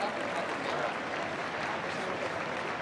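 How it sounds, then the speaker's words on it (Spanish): An audience at a rally applauds steadily, a dense wash of clapping at moderate volume that carries on without pause across the whole stretch. "un aplauso"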